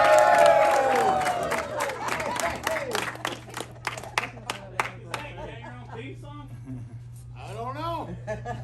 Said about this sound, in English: So how about a big round of applause for Marshall Baker?